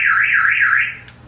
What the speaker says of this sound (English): if you want the alarm to sound in a panic, you just hit this bell here, and that'll sound the alarm